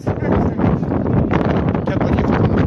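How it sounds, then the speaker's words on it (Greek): Strong wind roars steadily into the microphone at an outdoor football match, a dense continuous buffeting rumble with louder gusts throughout, a commentator's voice faintly audible underneath. "πολύ δυνατός ο αέρας, σίγουρα δυσκολεύει"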